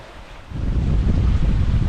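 A sailboat crossing the Pacific Ocean at sunset, with steady wind rushing across the microphone and low rumbling water rising after a brief calmer moment.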